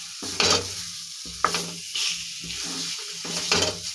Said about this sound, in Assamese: সেইখিনি এতিয়া অকণমান সময় আৰু ভাজি